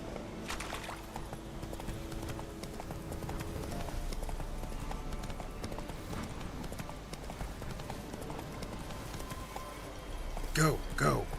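Roach, Geralt's horse in The Witcher 3, gallops with steady rapid hoofbeats under game music, with a brief louder burst near the end and a voice speaking over it.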